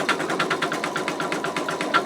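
An embroidery machine stitching out an in-the-hoop wallet, a fast even train of mechanical needle strikes at about eight per second, close and continuous with a light whirring motor underneath.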